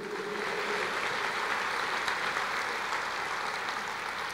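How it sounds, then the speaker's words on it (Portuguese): A church congregation applauds during a sermon, a continuous, even patter of many hands clapping at moderate volume, with no voices over it. "Pode aplaudir o Senhor"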